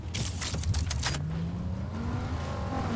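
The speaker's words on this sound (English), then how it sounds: "That's Lambo." A Lamborghini engine revs in Fortnite, a steady droning motor with a rising pitch sweep, preceded by a brief burst of clattering mechanical noise, with no one talking.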